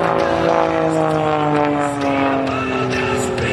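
An aerobatic propeller airplane at an airshow drones loudly and continuously, its engine pitch sliding slowly downward as it maneuvers, with an announcer talking faintly underneath.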